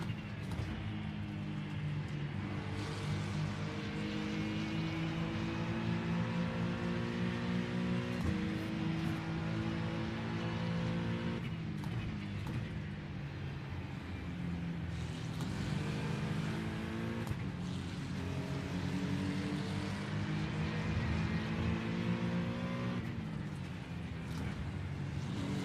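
A GT3 race car in iRacing at Spa, its engine note climbing repeatedly through the gears, with brief dips at each shift and a steady loud drone from close by, with no talk.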